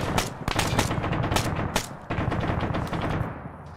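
Dense automatic gunfire fills a firefight in the military video game Arma, with rapid bursts and sharp shots stacking over one another throughout, close and loud, with a few isolated cracks standing out.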